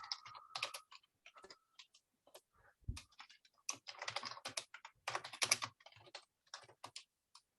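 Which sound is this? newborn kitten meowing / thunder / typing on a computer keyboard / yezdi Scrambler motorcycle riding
typing on a computer keyboard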